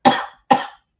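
Two dry coughs in quick succession from a person with a lingering cough after an illness, close and fairly loud, then a faint start of another sound at the end.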